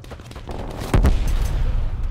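Gunfire in the video game Call of Duty: Cold War, a sharp close burst of shots near the middle followed by a dense rumbling barrage under a steady game din.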